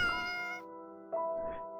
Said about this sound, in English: The cat meows again, this time more insistently.